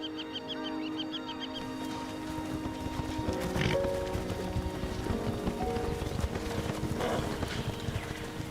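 Wild horses' hooves clip-clop steadily in a river delta alongside snorts and an occasional whinny, set against wind and a broad outdoor rumble.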